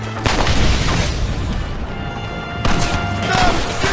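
Gunfire in the Red Dead Redemption video game: loud, booming shots with a heavy low end, one sharp report near the start and another cluster near the end, with rumbling echo between.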